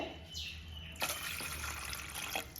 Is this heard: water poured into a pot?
yes